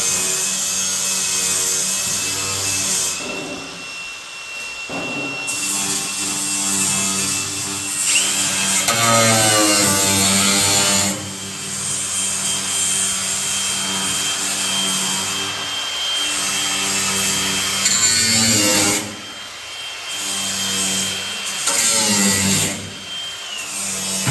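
A power tool cuts and trims the sheet metal of a 1966 Chevrolet Impala SS quarter panel, a loud, steady grinding whine running continuously for a long stretch with slight shifts in pitch, up close.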